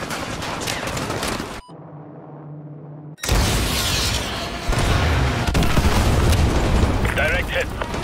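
An AGM missile strike explodes in the Call of Duty Modern Warfare 2 video game campaign, a loud close boom followed by a brief low hum and then a sustained heavy roar of blasts and rumble, with voices over it.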